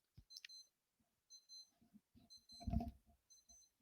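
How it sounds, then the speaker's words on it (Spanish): Faint, high electronic beeps like an alarm, in short bursts repeated about every second or two, from an unknown device amid soft background noise. "Por aquí un pitido de algo, como una alarma, aunque no puedo determinar de qué"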